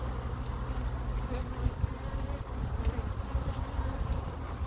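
Honey bees buzz in a dense, continuous drone close by as frames of low honey are shaken over an open hive, the swarm sound steady and loud throughout.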